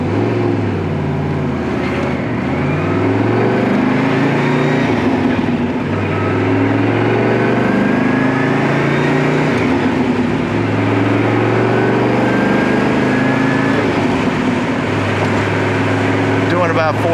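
A 1993 Lister Corvette engine pulls away in first gear, a loud, close rising drone with climbing harmonics that shift as the revs build, over steady road and wind noise.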